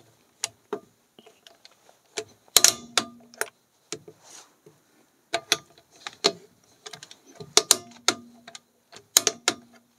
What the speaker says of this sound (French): Et puis vous terminez le serrage à la clé dynamométrique à 90 Nm.